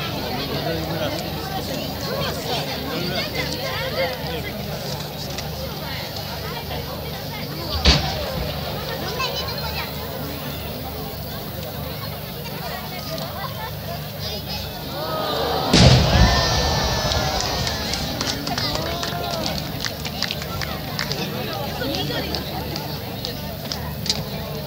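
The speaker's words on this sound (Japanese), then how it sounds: "中心が緑で銀色に大きく開く花火です。" Large 12-inch chrysanthemum fireworks shells by Nomura Fireworks burst at the 2014 Koga fireworks festival, with two distinct booming thuds standing out above a steady crowd murmur and a commentator's voice, the second burst followed by crackling.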